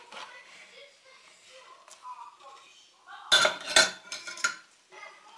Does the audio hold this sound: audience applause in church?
no